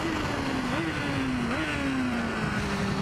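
A motorcycle on the Magny-Cours circuit accelerates through fifth and sixth gear down a long curving straight, its engine note climbing steadily with brief dips at each shift, loud and continuous under wind roar.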